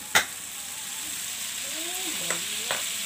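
An oyster sauce dish cooks in a pan over high heat, a steady frying hiss throughout with a few sharp clicks of a utensil and faint tonal squeaks under it.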